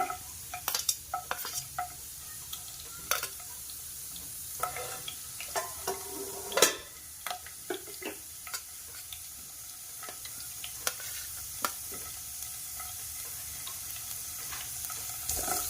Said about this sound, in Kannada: ಈಗ ಎಣ್ಣೆ ಬಿಸಿ ಆಗಿದೆ ಫ್ರೆಂಡ್ಸ್. ಫಸ್ಟ್ ಬೆಳ್ಳುಳ್ಳಿ ಹಾಕೋಣ.